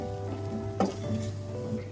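Onion paste and ginger-garlic paste sizzle steadily in a pan while being stirred for a Bengali prawn malai curry, with a clatter of the spoon against the pan in the middle of the frying hiss.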